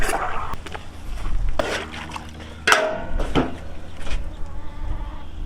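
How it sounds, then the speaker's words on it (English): Water sloshes and splashes in a pot for scalding chickens during processing, in irregular close bursts with rattling and knocking between them. "Put that water in there, slosh it around, get it all mixed up."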